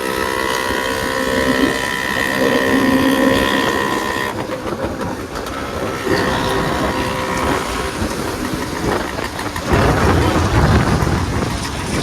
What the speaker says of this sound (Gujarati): વરસાદમાં આપણે નીકળી ગયા છીએ